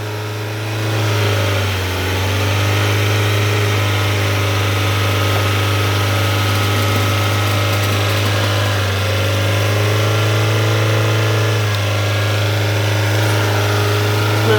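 A car engine held at elevated revs during a home oil-change service while throttle body cleaner is sprayed, a loud steady drone with slight rises and dips in pitch, running unbroken throughout.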